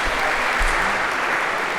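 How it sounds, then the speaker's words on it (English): A lecture-hall audience claps in a steady, dense round of applause, fairly loud and even throughout the short burst, with no talk over it. "maybe a round of applause for palm tree on an island if we could"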